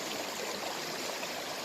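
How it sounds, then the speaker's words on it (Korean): A mountain stream rushes continuously beside a valley campsite, a close, steady broadband wash of flowing water with no voices. "물소리를 들을 수가 있어요."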